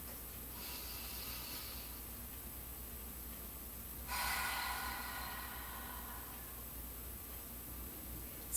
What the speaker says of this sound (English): Focus on your breath.